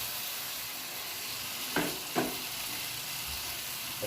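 Carp in pesmol sauce sizzling in a pan, a steady close frying hiss throughout with two soft scraping strokes of a spoon stirring partway through, no talk.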